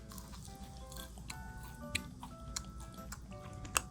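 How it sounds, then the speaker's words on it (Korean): Crisp bites into a crunchy yakgwa honey-cookie topping on a cinnamon-scented red bean bread, a few sharp crackling snaps spaced apart, close and fairly quiet. "이 위에 올라간 약과가 되게 바삭해서 놀라긴 했어요"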